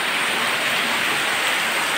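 Heavy rain pours down outside a house during a power cut, a steady, dense hiss of falling water with no break and no voices.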